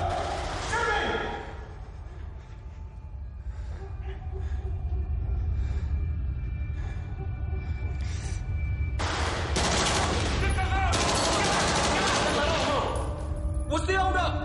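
Staged gunfire rings out in a military action drama scene, with scattered shots early on and then loud, rapid bursts toward the end, mixed with shouting voices and background action noise.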